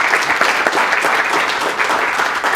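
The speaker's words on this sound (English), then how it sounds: "Let's give Professor Toussaint a round of applause." A loud, dense round of audience applause for Professor Toussaint at a lecture event, steady and continuous from start to finish.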